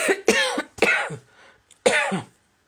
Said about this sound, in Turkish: benim öksürüğüm gibi